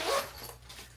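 A zipper pulled on a compression packing cube, one quick close scratchy zip lasting under a second.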